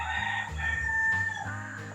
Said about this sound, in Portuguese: Esse aí é o nosso galo, é o Ataúfo Alves